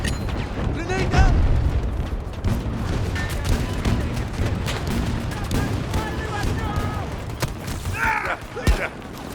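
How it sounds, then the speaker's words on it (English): In the video game Battlefail 2069, a grenade explosion and gunfire erupt as heavy booms and rattling shots over continuous battlefield noise, with a loud blast standing out late in the sequence. "Grenade out!"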